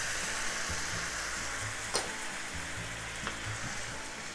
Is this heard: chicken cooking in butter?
yes